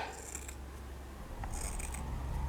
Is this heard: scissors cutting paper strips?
yes